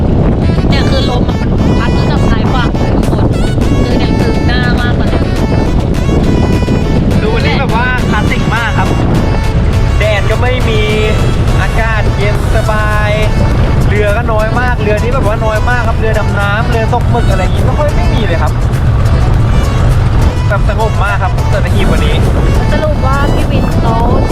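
Strong offshore wind blowing across the sea near Sattahip, buffeting loudly and without pause while people talk over it throughout.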